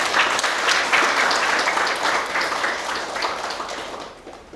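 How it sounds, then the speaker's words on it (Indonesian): Applause from an audience at a ninth-grade graduation and farewell ceremony at a junior high school in Denpasar. Dense, sustained clapping fills the room, holds steady, then gradually thins and fades toward the end. No one speaks. "Tolong tepuk tangan."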